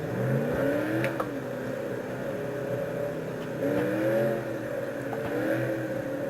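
Car engine in a racing video game driven with a steering wheel and manual transmission, a steady mid-pitched engine drone with repeated rising revs and gear changes, no voices.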